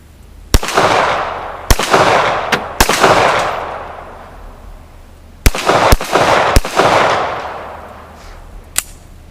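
Rock Island M1911A1 pistol firing .45 ACP rounds outdoors, eight loud sharp shots in two uneven groups, each followed by a ringing echo tail.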